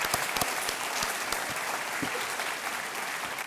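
Studio audience on a Hindi TV quiz show (Kaun Banega Crorepati) bursts into steady, dense applause, many hands clapping together at close range and sustained without pause.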